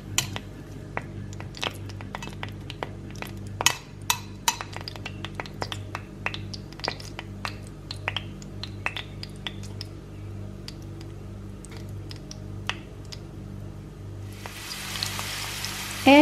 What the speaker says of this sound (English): Heat up the oil in the pot and add your bay leaf and cinnamon stick. Stir it around a little bit to infuse the oil.